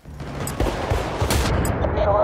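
Rapid bursts of gunfire in Battlefield: Bad Company 2 crack repeatedly over a couple of seconds, with a voice talking underneath.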